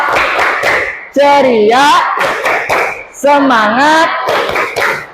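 Sharp hand claps in a quick rhythm open a classroom clap chant, followed by loud group chanting in a Indonesian school lesson; the voices carry over and between the claps.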